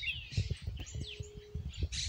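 A blue cardinal sings in short, faint bursts of chirps and thin whistles over low rustling and handling noise nearby, with no speech.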